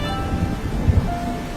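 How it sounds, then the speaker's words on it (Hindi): Heavy rain in an animated story, a steady broadband wash of downpour with a couple of low thumps near the middle, loud and continuous with no voices. "बारिश बहुत ज्यादा तेज थी।"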